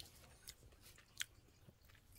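Crunchy churro-flavored ice cream is chewed with soft, irregular crunches and squishy bites, faint and close, with a few sharper crunches standing out near the end.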